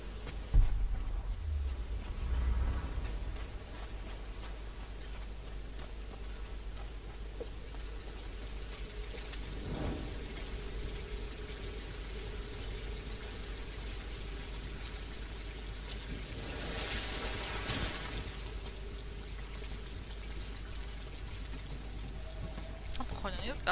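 Steady rushing flow of water in the Tomb Raider game, a continuous wash of noise with louder surges partway through, under occasional quiet talk.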